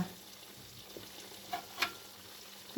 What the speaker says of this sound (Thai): มาทอดให้หมดเลย มา แล้วก็ให้ทอดไปแบบนี้เรื่อย ๆนะคะ